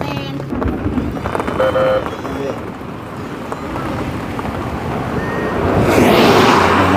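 Rain falling outdoors near a railway track in rural Thailand: a steady wash of rainfall with scattered sounds beneath it, growing noticeably heavier and louder in the last second or so.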